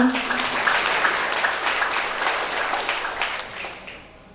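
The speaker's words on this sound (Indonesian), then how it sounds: "tepuk tangan untuk beliau" Applause from an audience at an official welcoming ceremony, steady broadband clapping that fades out toward the end.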